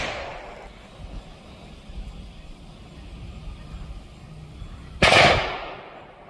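A neighbor fires a gun in a country backyard: after a quiet, faintly rumbling stretch, one sharp, fairly close report cracks out near the end and fades quickly.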